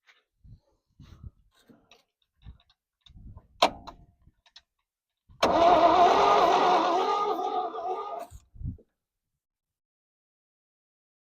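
A 1969 Chevy C10 pickup engine, long buried in a field, cranks roughly for about three seconds, a loud grinding churn, preceded by scattered clicks and knocks, then falls silent.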